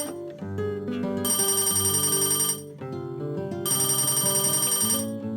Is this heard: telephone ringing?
yes